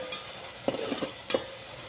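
Tomato and onion masala for a mutton curry fries in oil with a steady, close sizzle, broken by a few sharp clicks from stirring.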